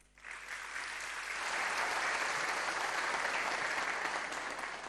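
A theatre audience at the Luleborë festival for Migjeni Theatre in Shkodër, Albania, bursts into loud, sustained applause that swells quickly after a brief pause and holds steady as a dense, continuous wash of clapping.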